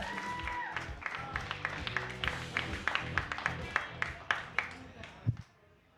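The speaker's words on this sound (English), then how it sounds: "I want you to give all your love, all your attention, all your applause to Taryn Perez." A comedy show audience applauds, with sustained clapping and a few louder individual claps rising over crowd noise for several seconds before fading out.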